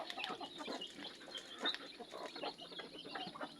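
Hens and their chicks cluck and peep inside a partitioned coop shared by two mother hens, with close, steady, overlapping clucks and faint chick cheeps and no talking.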